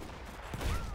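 Battlefield 1 video game gunfire: a continuous burst of dense, rumbling shots that swells louder toward the end, with no talk over it.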